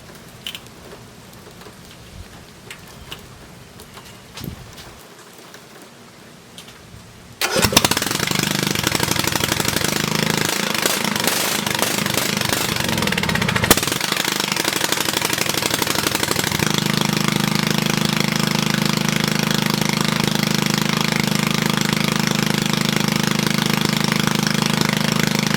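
Old Yazoo mower engine with an open header, quiet at first, then firing up abruptly into a loud, harsh, steady bark that keeps running without letup.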